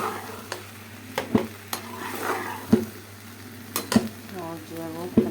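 A faulty gas stove sputters while pasta cooks, giving soft uneven popping and sizzling under steady stirring, with spoon clinks against the pan and a voice talking briefly near the end.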